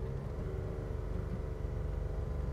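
A Lancia Stratos HF rally replica engine idles loudly and steadily in a low, continuous rumble, heard up close with no talking.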